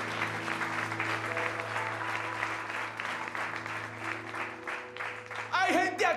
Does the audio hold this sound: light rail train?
no